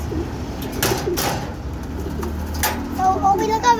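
Pigeons coo in short soft bursts among loose household sounds, a couple of brief knocks and a faint voice mixed in near the close.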